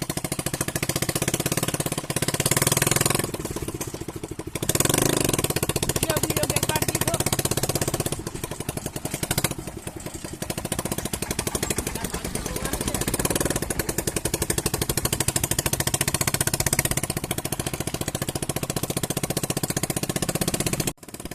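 A Swaraj tractor engine chugs loudly and steadily while driving along a highway, with a rough, continuous rumble, wind buffeting and brief dips in level.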